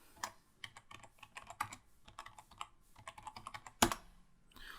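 Rapid, uneven keystrokes on a computer keyboard, with a sharper louder press near the end, close and clear with no talking, made during work in Adobe After Effects.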